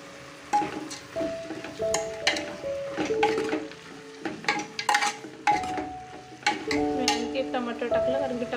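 Dal tipped into a pan of palak sabzi with tomatoes and stirred, giving a quiet sizzle with repeated spoon scrapes and clinks against the pan in uneven bursts.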